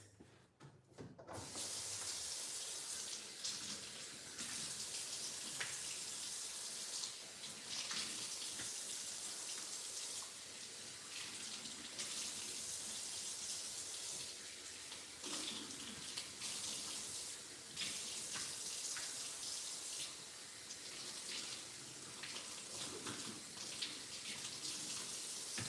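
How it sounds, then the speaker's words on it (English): Kitchen tap running steadily as vegetables are rinsed under it in a sink, a continuous hiss of water with shifting splashes and spatters over about twenty-five seconds, close and unbroken, no voices. "So I'm gonna go ahead and rinse these."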